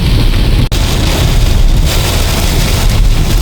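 Heavy rain from a storm drums steadily on a car roof, a dense, continuous roar with a low rumble underneath.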